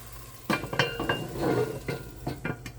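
A metal lid clinks onto a frying pan holding leftover cabbage on low heat, a few close clanks and scrapes of cookware over a faint sizzle.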